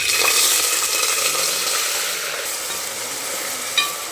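Chopped onion and cumin seeds fry in a little oil in a pan, a close, strong sizzle that gradually settles while a spoon stirs through it, ending with a sharp clink against the pan.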